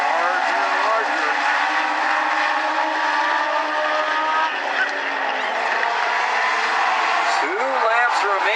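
Legends race cars circle a track during a heat race with a continuous, dense engine roar, several cars droning together near the listener, while an announcer talks over the noise.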